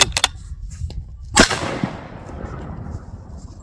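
Rifle fired at an outdoor range without its muzzle brake: one sharp, loud report followed by a fading rumble, with a few smaller clicks and knocks beforehand and no talking.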